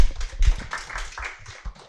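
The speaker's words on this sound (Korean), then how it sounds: "박수로 모시겠습니다." A small audience at a Korean teacher-exam study session claps to welcome the next presenter, a brief, fairly sparse patter of hands with a few sharp close claps, fading quickly.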